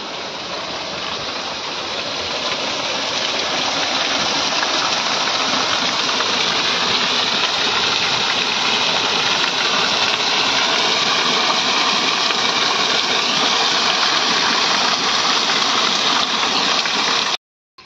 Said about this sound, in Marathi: पाणी जबरदस्त चालले.